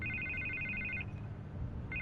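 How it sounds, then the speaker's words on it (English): A telephone rings in the Batman Telltale video game, with an electronic trill lasting about a second, a short gap, then the next ring starting, over a low ambient background hum. "I can't get the phone to stop ringing."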